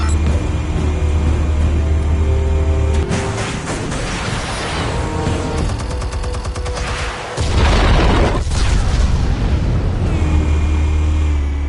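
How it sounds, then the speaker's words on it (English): Explosives detonate in the Batman: A Telltale Series video game on PS4, with deep, loud booms and rumbling blasts that rise and fall over a heavy, continuous roar of low-end noise. "Explosives armed. Fire when ready."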